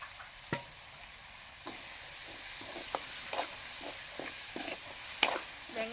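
Onions and tomatoes sautéing in a pan with spices, a soft continuous sizzle broken by scraping stirs and a few sharp clinks of the spoon against the pan.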